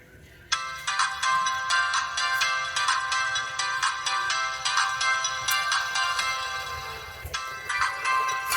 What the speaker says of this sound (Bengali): প্রথমেই আমরা রিংটোনের যে সাউন্ড সেটা একটু শুনবো